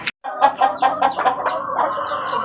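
A rooster clucks in a close, rapid series of short throaty calls, loud and alone, after a brief opening sound.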